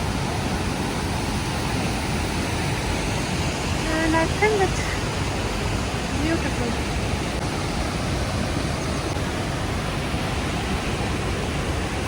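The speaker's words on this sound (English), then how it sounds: "So we are right now in Rhine Waterfall and this is the situation" Rhine Falls waterfall in Switzerland gives a constant, loud, dense roar of crashing water, with a person speaking briefly under the noise.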